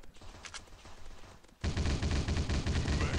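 Dense bursts of automatic gunfire from the mobile shooter MaskGun FPS: a few sparse, quieter shots, then from about halfway a loud, continuous rapid fusillade of close firing that runs to the end.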